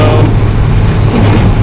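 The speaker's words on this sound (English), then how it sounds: "heavy rain" Heavy rain pours down on a car while driving, a dense, loud, steady wash of drumming noise over a low rumble, with no one speaking.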